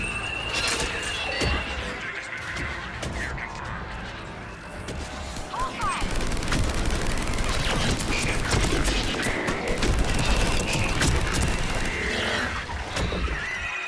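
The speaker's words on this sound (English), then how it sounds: "I keep missing with my rockets" Mass Effect 3 multiplayer combat: a dense, continuous barrage of weapon fire and blasts with crashing impacts and mechanical noise, loud throughout, with louder bursts in the second half.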